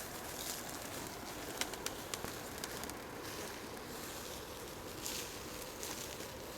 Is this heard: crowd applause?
no